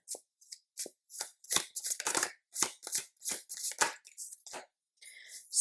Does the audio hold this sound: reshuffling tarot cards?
yes